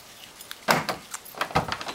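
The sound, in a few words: Opel GT remote door lock actuator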